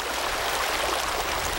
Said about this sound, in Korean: 물살이 있고 물결이 있고 물소리가 있는 곳,